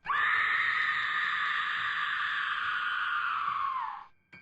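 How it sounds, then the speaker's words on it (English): One long, high-pitched scream held steady for about four seconds before trailing off, loud and piercing with no other sound around it. "Then they heard a scream behind them."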